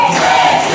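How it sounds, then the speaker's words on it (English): A wrestling crowd at an indoor pro wrestling show roaring, a brief loud burst of massed shouting and cheering. "Listen to that crowd, Barry."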